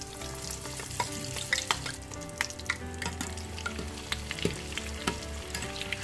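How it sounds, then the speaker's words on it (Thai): Banana pieces deep-frying in a generous pool of hot oil, a steady dense sizzle and bubbling crackle with occasional louder pops and stirring clinks, close and continuous with no talk. "ใส่น้ำมันเยอะนิดนึงให้มันท่วมกล้วยที่เราจะทอด"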